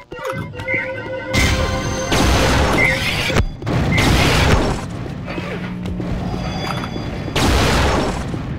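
Gunshots during a competitive video game scrim, loud bursts of firing in several separate clusters with booming impacts between quieter gaps.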